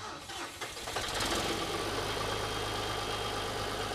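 A tractor engine cranks and catches at a high school tractor-to-school event, the brief starter whir giving way to a loud, steady close idle rumble.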